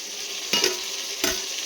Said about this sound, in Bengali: ফুলকপি আর ব্রোকলি দুটোই মিশিয়ে আর হচ্ছে কড়াইশুটি দিয়ে আলু দিয়ে নিই একটু ভাজা করে নেবো